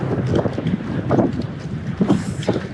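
Strong wind at Salda Lake in Burdur buffets the microphone as a steady, loud roar of rumbling gusts that surge and ease over a few seconds, with no voices.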